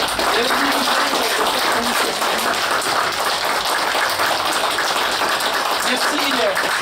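Audience at the opening of the MMC 2018 show in Mirecourt claps in sustained, dense applause that stays loud and even throughout, with voices faintly mixed in beneath.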